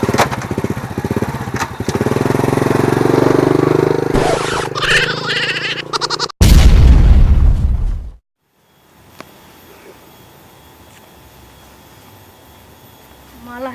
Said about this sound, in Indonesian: Paling Langsung gas bablas wae, Ki.